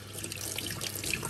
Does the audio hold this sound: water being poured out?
yes